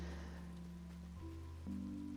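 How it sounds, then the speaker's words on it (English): Steady rain falls in the farming game Paleo Pines, a soft continuous wash under sustained tonal layers that shift pitch twice, with no voices. "I'm so pleased it's raining."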